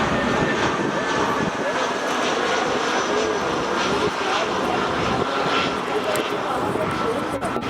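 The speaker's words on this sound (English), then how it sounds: "Lufthansa A320 coming from Berlin. Beautiful landing, butter." Lufthansa Airbus A320 from Berlin landing at Frankfurt Main Airport, a loud, steady close-up jet engine roar that holds throughout, with a voice talking over it.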